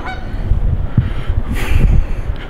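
A goose honks repeatedly nearby, loud and harsh, over wind noise outdoors.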